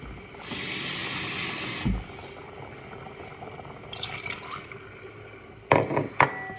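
A short pour of water into a pot of rice, followed by quieter background and a few sharp clinks and splashes near the end.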